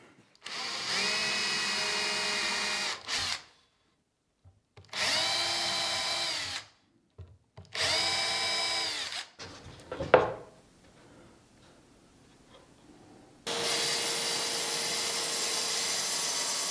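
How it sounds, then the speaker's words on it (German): A power drill pre-drills holes in wood for a side table, running in four loud bursts of a few seconds each with whining motor pitch, separated by silences and a brief clunk of handling. "fürs Schleifen will ich die Löcher vorgebohrt haben"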